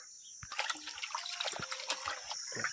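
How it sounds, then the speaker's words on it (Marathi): Cut pieces of country chicken are washed in water in a vessel outdoors, with close sloshing, splashing and trickling that comes in short bursts. "चिकन पाणी टाकून त्याच्यामध्ये पाणी टाकले बघा आता धुवून घेणार आहोत"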